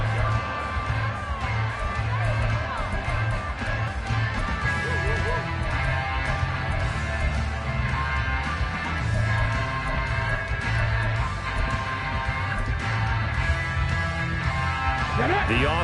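A stadium crowd at an American football game keeps up a steady roar of cheering and yelling after a touchdown and kickoff, continuous and moderately loud, with a commentator talking over it throughout.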